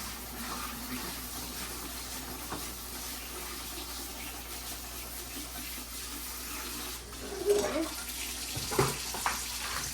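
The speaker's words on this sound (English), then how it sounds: "I'm putting them into a colander on the other side, and we're going to rinse them" Cold tap water pours steadily for several seconds over pickles in a colander, with a few splashes and knocks near the end as they are rinsed.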